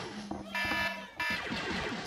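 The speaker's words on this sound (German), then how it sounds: "So, Timer ist abgelaufen." A buzzer-like electronic tone marks the timer running out in the video game Angry Birds Star Wars, a steady sustained tone with bright game effects layered around it, loud and close.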